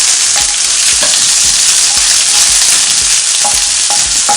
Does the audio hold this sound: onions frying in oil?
yes